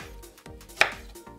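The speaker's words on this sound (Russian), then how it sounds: "То есть я вот режу ее буквально так." Kitchen knife chopping broccoli florets into smaller pieces on a cutting board, with one sharp, close chop standing out among soft blade scrapes, and no voice.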